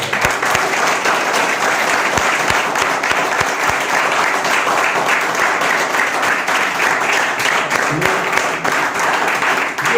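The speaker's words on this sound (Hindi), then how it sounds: "यहाँ पर जोरदार तालियां हो।" Loud, sustained applause from a large audience fills the whole stretch, dense and steady throughout, with no speech over it.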